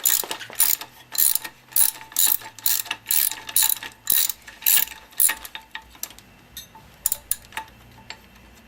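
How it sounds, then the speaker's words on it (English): A ratchet wrench with an Allen socket loosening the engine mount bolt on a BMW F650GS motorcycle, a run of about a dozen rapid clicking bursts in a steady rhythm, close and crisp, then a few sparser clicks. "So we've got an Allen socket and a 17, and we're going to take this mount loose."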